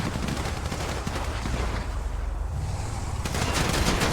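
Gunfire from vehicles in a video game match, dense bursts of rapid shots and booms over a rumbling background, loud and continuous.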